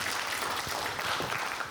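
A seated audience at a panel forum claps to welcome a presenter, a soft, distant, even patter of many hands that continues throughout.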